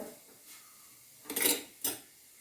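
A spoon stirring food in a pan over a low flame, with soft metallic scrapes and two brighter scraping strokes close up.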